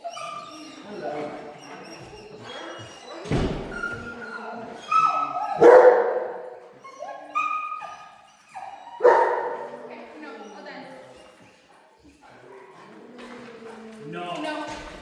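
A coonhound-mix dog gives a few short barks and yips amid close conversation during a dog aggression training session, the barks loud and scattered between stretches of talk.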